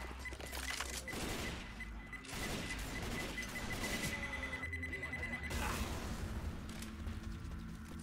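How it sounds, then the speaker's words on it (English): Pipe bomb going off in Left 4 Dead 2 amid heavy gunfire, with booming blasts and rattling shots packed together into a dense, loud, continuous barrage from start to end. "Pipe bomb."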